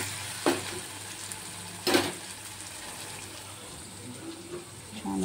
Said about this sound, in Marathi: आता टोमॅटो घालायचा आहे, टोमॅटो सुद्धा छान असं परतवून घ्यायचं आहे